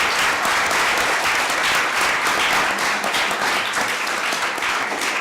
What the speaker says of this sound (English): Can we just get a round of applause for the panelists?